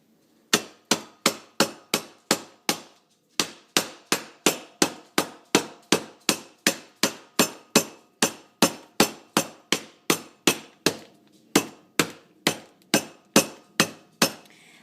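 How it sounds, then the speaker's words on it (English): Taper candles sealed in doubled Ziploc bags are struck over and over to break the wax, about thirty sharp, loud, evenly paced whacks, each with a short clattering decay, with one brief pause early on. "I'm breaking apart the wax so that I can remelt it"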